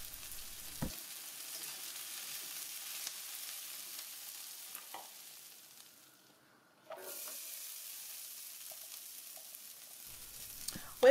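Corn kernels char in a hot frying pan during a beef, shrimp and broccoli stir fry, giving a steady faint sizzle with occasional small pops and a brief quiet gap midway.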